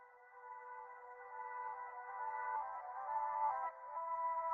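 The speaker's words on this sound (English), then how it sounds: "So I just got the vocal again and just reversed it here." Reversed vocal sample processed with a lossy degradation effect, a smeared, swelling tone that builds gradually in level, played alone with no talk.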